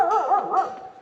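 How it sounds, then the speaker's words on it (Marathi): A dog barks close by in a quick run of three or four sharp, yelping barks, loud and alone. "फावड्याला खूप भुंकतो सर्वांवर."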